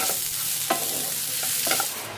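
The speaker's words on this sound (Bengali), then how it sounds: "এবার শেষে কম তেল দিয়ে সয়াবিনটাকে হালকা করে ভেজে নিচ্ছি।" Soybean chunks fry lightly in a small amount of oil, giving a steady close sizzle broken by several scraping stirs of a spatula in the pan, with no voices.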